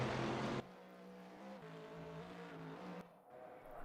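GT3 race cars, Corvettes among them, racing side by side at the Nürburgring Nordschleife in a sim racing game, with a loud sustained engine drone that shifts pitch as the cars accelerate and change gear, no voice over it.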